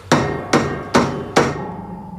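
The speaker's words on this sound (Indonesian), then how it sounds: "Mikhail segera mengetuk dengan palu" Hammer knocking on a submarine hull, struck four times at a steady, roughly half-second rhythm, each blow a loud, sharp metallic clang with a ringing tail, close and with no voices.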